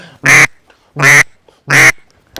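Three loud, separate quacks from a duck at close range, evenly spaced about 0.7 seconds apart, during a hunt for teal, mallard and pintail.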